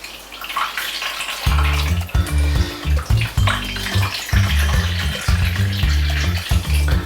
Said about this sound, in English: You just kind of squeeze that, give it a squidge and get as much water out as you can.